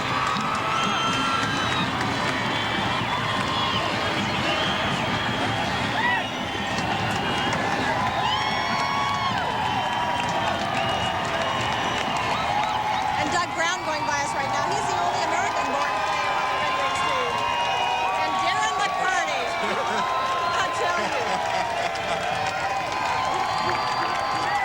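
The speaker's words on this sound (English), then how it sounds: "This crowd is just going absolutely crazy out here." A huge outdoor crowd at the 1997 Detroit Red Wings Stanley Cup victory parade cheers, whoops and shouts continuously, a dense roar with occasional nearby voices rising above it.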